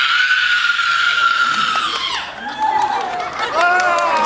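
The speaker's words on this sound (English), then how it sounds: "That was a professional scream." A woman's Hollywood-style horror scream at a special effects show, long and sustained with a wavering pitch that sounds as if it ends more than once, loud and close, with crowd noise and cheering underneath.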